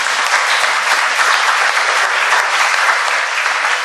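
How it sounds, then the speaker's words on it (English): A lecture audience gives a round of applause for Professor Matthew Izibili after his talk on Esan traditional marriage practices, loud and dense clapping sustained evenly without pause. "please give a round of applause to Professor IZIBILI"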